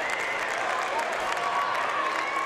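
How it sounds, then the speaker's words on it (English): A basketball crowd at a boys' regional championship game applauds and cheers departing seniors as they are substituted out, steady sustained clapping filling the gym with a few voices mixed in. "round of applause from the Martin County faithful"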